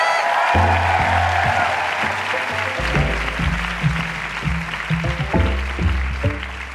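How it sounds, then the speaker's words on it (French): Audience applause at a live comedy show, broad clapping and crowd noise mixed with loud upbeat music whose beat and chords dominate the second half. "On peut applaudir notre Claude préféré, s'il vous plaît!"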